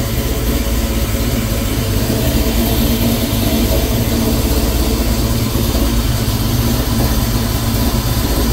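A truck engine idles at about 800 rpm on its first start in two months, producing a loud, steady, heavy low rumble that continues without a break throughout.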